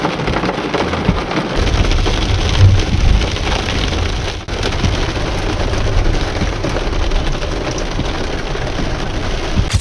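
Heavy pre-monsoon downpour with hail in a city, a dense and steady roar of rain hammering surfaces for the whole stretch with a deep low rumble underneath and no voices.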